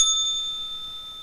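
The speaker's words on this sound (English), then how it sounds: "I need to tune my bell." A single bright bell strike rings out cleanly and close, its pure metallic tone sustaining and slowly fading over a second.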